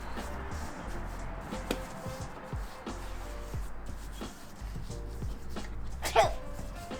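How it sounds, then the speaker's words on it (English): A single sharp sneeze near the end, set off by a pepper rub being worked into a cowboy ribeye before it goes on a PK grill, over a steady low background hum with faint shuffling and light movement throughout. "these rubs are gonna make you sneeze or cough, probably because of the pepper it has in there"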